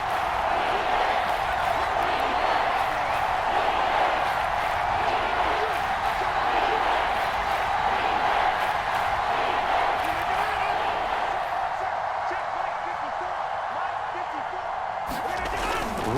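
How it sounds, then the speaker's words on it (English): A loud, steady roar of a stadium crowd in the football video game Madden NFL 22 fills the whole stretch, a dense wash of cheering and chanting that never lets up. "this crowd's going to get even louder"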